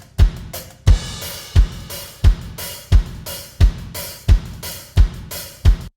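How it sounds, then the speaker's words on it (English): Soloed drums in a song mix, with steady punchy kick and snare hits in an even groove and an open hi-hat washing between them, alone and close. "We actually have the hi-hat open up just to kind of add some energy"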